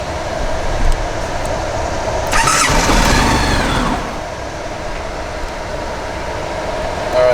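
A 2015 Kymco My Road 700 scooter engine cranks over with a brief whirring starter burst, then catches and settles into a steady, close idle.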